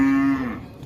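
A cow that has broken loose in a market area lets out a single short, low moo, loud and close, tapering off within a second with no voices.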